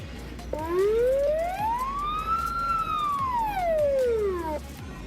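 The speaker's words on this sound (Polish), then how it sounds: "Dobra, włącz sygnały." A single emergency vehicle siren in the Emergency 4 firefighting video game rises and falls in one long wailing sweep, loud and steady over low engine rumble, with no talking.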